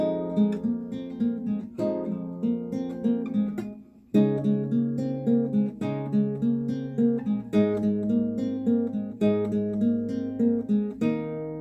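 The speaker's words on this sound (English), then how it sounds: "then with the chords it sounds like this." Strummed guitar chords alternate with a picked riff, played steadily and close up, with a short break before the pattern repeats. No voices.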